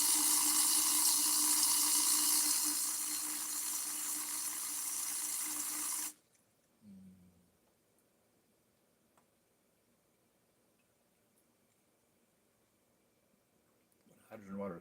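Hydrogen water is poured in a loud, steady hissing stream for about six seconds, then stops abruptly, leaving near silence broken by a few soft knocks and a brief sound at the end.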